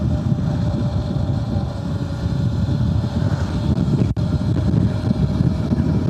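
Revolt RV1 electric motorcycle carrying two riders at about 45–50 km/h, straining for speed: a steady, loud roar of wind buffeting the microphone with a low rumble underneath, continuous throughout, with one brief dropout.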